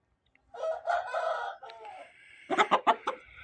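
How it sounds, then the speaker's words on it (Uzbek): A large rooster lets out one loud, close crow, then a quick run of sharp clucks. No one speaks over it. "Yirik xo'roz."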